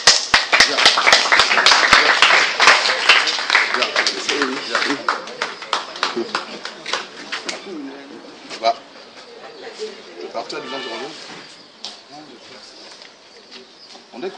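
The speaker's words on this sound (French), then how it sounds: "Est-ce qu'on peut acclamer Jésus?" A congregation applauds and cheers for Jesus, loud rapid clapping at first that thins into scattered claps and fades as voices talk over it.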